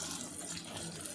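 Tap water runs steadily while a quarter kilo of prawns, mixed with salt and turmeric, is washed in a kitchen sink, a continuous close hiss and splash with no voices.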